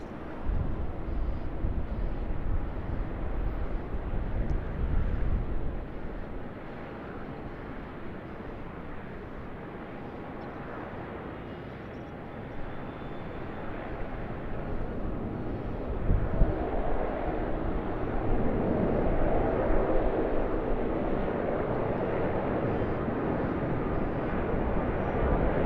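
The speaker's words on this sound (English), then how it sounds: "Another departure for us here on runway 34 right." A departing airliner on runway 34 right at Sydney Airport, heard as a steady, broad jet roar that dips briefly midway and then swells again, with no voices.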